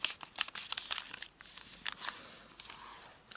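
Paper folded and sharply creased for a traditional origami tato envelope gives close, irregular crinkles and crisp rustling swipes in quick bursts, fairly quiet with no voice.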